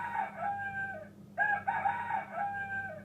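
A red rooster crows repeatedly from a children's animal-sounds learning toy, with loud, harmonic cock-a-doodle-doo calls that rise and fall in quick succession and a brief gap between them, and no talking.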